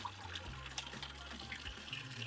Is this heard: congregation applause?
no